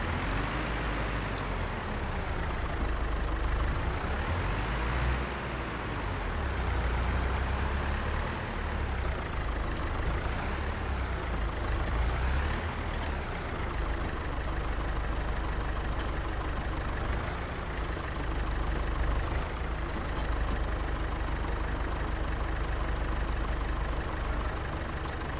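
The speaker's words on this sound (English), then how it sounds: "So we turn on the engine." A John Deere-Lanz 710 tractor engine idles in Farming Simulator 22, a steady, close low rumble with a faint rhythmic knock that stays even throughout without revving.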